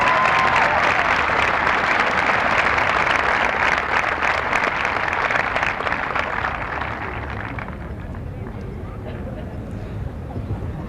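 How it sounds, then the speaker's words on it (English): A high school commencement audience applauds graduates of the class of 1992, sustained dense clapping filling a large hall before gradually thinning out. "I would like to lead you in a collective big round of applause for all of these very distinguished graduates."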